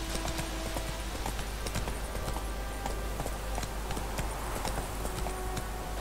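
Roach the horse running in The Witcher 3, a dense, continuous patter of hoofbeats over a steady hum, close and even in level throughout, with no talking.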